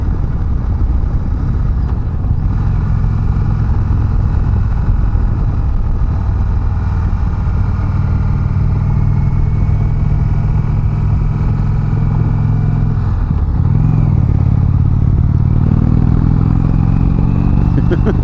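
A 2019 Indian Chieftain Limited motorcycle rumbles steadily while riding on the road, a loud continuous engine drone with wind noise, rising slightly in pitch near the end as it accelerates.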